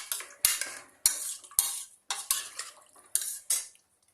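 Rice cooked with ghee, water and coconut milk being stirred in a pot, a series of about seven sharp scraping strokes at a steady rhythm, close and clear, with no talking.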